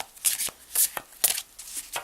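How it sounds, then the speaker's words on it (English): A deck of cards is shuffled by hand in a series of crisp riffling bursts, about five short rapid flutters separated by brief pauses, close and alone. "then I will shuffle."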